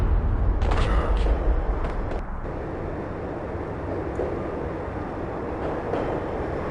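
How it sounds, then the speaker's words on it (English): A train slowing down in the video game Max Payne gives a heavy rumbling roar with sharp screechy bursts near the start, then settles into a steadier, quieter rolling noise. "When the train he was riding slowed down, Gognitti made his move."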